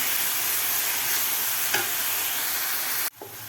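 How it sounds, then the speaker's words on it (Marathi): Onion and garlic masala frying in oil in a pan, a loud, steady sizzle that runs unbroken, then drops sharply near the end and goes on more quietly; no speech. "चांगलं व्यवस्थित आपल्याला हा मसाला फ्राय करून घ्यायचा आहे"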